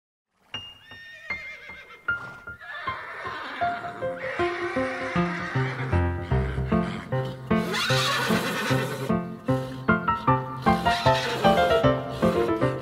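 A brown horse neighs and whinnies within a children's song about farm animals on a farm, heard at the start and then followed by steady bouncy music that carries on to the end.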